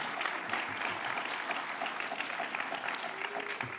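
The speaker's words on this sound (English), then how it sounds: "Give him a round of applause." Sustained applause from a lecture audience at an evening literary event, dense steady clapping filling the room from start to finish with no pauses.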